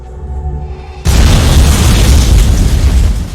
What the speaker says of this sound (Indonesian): mereka menemukan satu orang yang sudah dipasangi bom dan saat itu juga langsung meledak